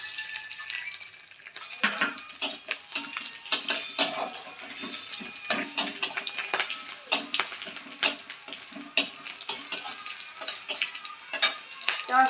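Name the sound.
cumin seeds sizzling in mustard oil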